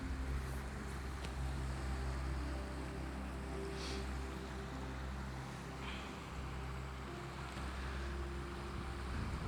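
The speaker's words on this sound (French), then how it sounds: "du bruit de la mer." Steady roar of sea waves washing in, mixed with wind rumble and a low engine-like drone, continuous throughout.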